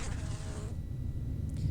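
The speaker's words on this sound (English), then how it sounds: "Their buzzing wings sounded right up against my ears as if they were attacking me." A swarm of flies buzzing in the Corpse Party: Book of Shadows horror game, a dense insect drone that is loud for the first moment, then drops to a low hum near the ears.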